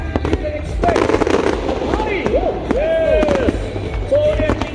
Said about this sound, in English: Fireworks, fantastic, everything that you can expect.